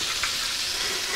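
Steady, dense sizzling and crackling of chicken frying in hot oil, close and fairly loud, with no voices.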